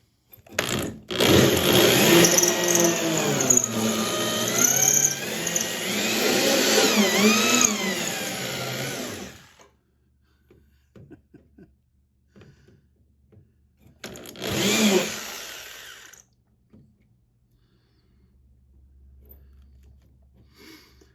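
An electric drill bores out spot welds on a 1964 VW Bug convertible body, a loud whining bite lasting about eight seconds, a pause, then a second short burst, with faint handling noises between.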